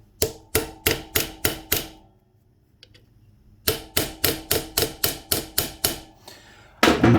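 A hammer taps the outer plate of a Suzuki DR200 motorcycle rear wheel into place, clamped in the workshop: two close bursts of sharp, evenly spaced metallic blows, six then about ten, separated by a short pause.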